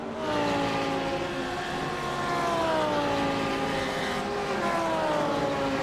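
A McLaren GT3 race car in a racing game at Okayama passes with a steady, loud engine drone whose pitch slides gradually downward as it goes by, with other car engine noise layered underneath.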